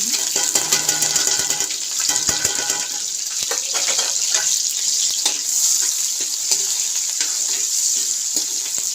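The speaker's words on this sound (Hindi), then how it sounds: "तो ऑयल गर्म हो गया है। तो अब मैं डालने लगी हूँ प्याज।" Chopped onions sizzle in hot oil in a home kitchen pan, a steady bright crackling hiss with scattered pops and stirring clicks, close and continuous with no talking.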